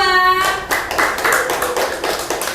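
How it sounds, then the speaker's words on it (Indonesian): A short burst of hand clapping from a small group of classmates after a group presentation, scattered and uneven, fading out within a couple of seconds after a brief tonal sound. "Tepuk tangan buat kelompok 2."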